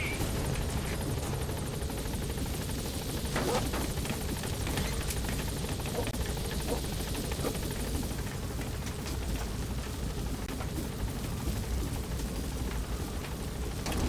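Military B-Quad helicopter in Metal Gear Solid V arriving at a landing zone, a steady loud rotor and engine roar filling the whole stretch with no break, close and continuous.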